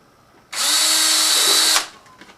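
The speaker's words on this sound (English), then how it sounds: "Drill another hole" A power drill whines loudly for just over a second as it bores a hole near the top rim of a plant pot, starting abruptly and winding down, with quiet before and after.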